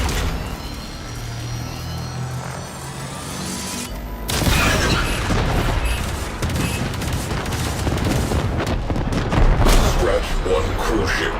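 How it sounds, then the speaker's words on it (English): Forward artillery firing on a Railjack ship in Warframe, a sudden heavy boom followed by a sustained roaring barrage of blasts and crashes, loud and continuous, with voice over it. "Why can't I fire the forward artillery where I want to?"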